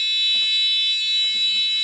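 A loud, steady electric buzzer used for Rotax engine ignition timing drones continuously, a harsh high-pitched tone with no pauses.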